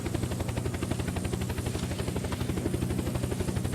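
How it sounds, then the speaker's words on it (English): A helicopter flies in a video game, its rotor making a steady, loud, rapid chopping thrum that pulses evenly throughout with no talk over it. "Only I can fly the helicopter."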